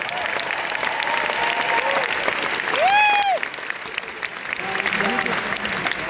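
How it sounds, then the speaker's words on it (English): A large Rock & Roll Hall of Fame ceremony audience applauds steadily for the band's original crew, a dense sustained roar of clapping with a brief whistle or cheer rising above it midway. "I want you to give them a round of applause"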